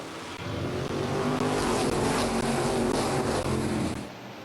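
Race cars roar around Midvale Speedway in a three-wide pack on the first lap, a loud sustained engine drone that swells and then fades near the end.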